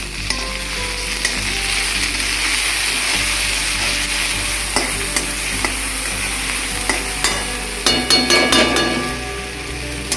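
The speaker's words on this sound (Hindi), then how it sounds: "मैं इसको तब तक हिलाऊंगा जब तक मेरा ये जिंजर गार्लिक जो पेस्ट है वो पेस्ट भी अच्छे से फ्राई नहीं हो जाता" Ginger garlic paste frying with browned onions in a pan, stirred steadily: a continuous loud sizzle with scraping spoon strokes throughout and a burst of sharper clatter near the end, no voices.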